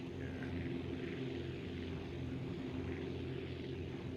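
Propeller aircraft engine at full throttle in the video game Aviassembly, a steady droning hum with a constant low buzz, even and unbroken, heard fairly faintly with no talk.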